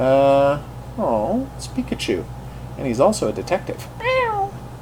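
A person imitates a cat with several drawn-out, rising-and-falling meows, loud and close, alternating with ordinary speech.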